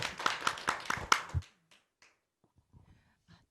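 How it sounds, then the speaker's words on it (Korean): A handful of sharp, separate claps ring out close by for about a second and a half at an academic social welfare conference session as a discussant professor is welcomed, then the room falls nearly silent. "박수로 맞아주십시오"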